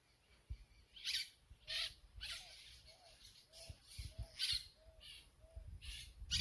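Parrots in a flock squawk in repeated harsh bursts about every half second, fairly close, with a faint background hiss.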